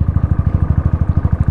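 A motorbike engine chugs steadily in a fast, even rhythm while riding slowly up a steep mountain road at Sach Pass, loud and close with no talk.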